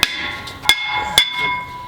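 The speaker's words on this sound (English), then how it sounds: "next you're going to want to pound the rotor off." A hammer strikes a front brake rotor on a Ford F250 three times, sharp metallic clangs that ring briefly in a quiet garage.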